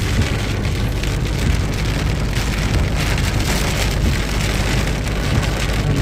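Heavy rain pours down in a dense, unbroken roar, loud and close, drumming steadily on nearby surfaces and drowning out everything else.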